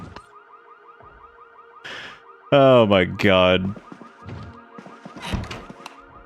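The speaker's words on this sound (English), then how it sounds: "I like how we can hear alarms going off." Alarms going off in the Project Zomboid video game, a steady pulsing electronic tone repeating throughout beneath a loud startled exclamation and other bursts of game noise.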